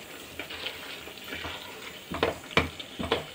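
Chicken frying with curd in a pan, a soft sizzle under scattered stirring scrapes and clinks that grow busier toward the end, with no voices.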